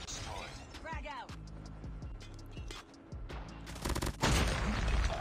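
Rapid gunfire bursts and a frag grenade blast crash through a Call of Duty Mobile match, ending in a louder, denser explosion of noise near the end, with game voices and effects layered beneath.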